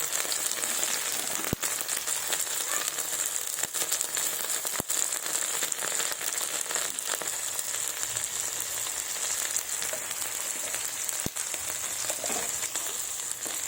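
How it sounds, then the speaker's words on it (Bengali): Fish curry masala of ground dried chilli, ginger, cumin, salt and turmeric frying in a pan, a steady close sizzle throughout with a few sharp crackles and no talking. "এবার ভালোভাবে মশলাটাকে কষিয়ে নেব।"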